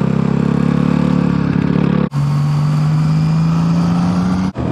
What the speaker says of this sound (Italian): Ops, ho cambiato senza la frizione.